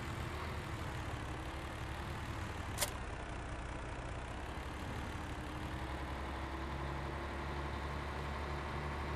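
A wheel loader in Farming Simulator 17 drones with a steady low engine rumble throughout. One sharp click stands out near the start.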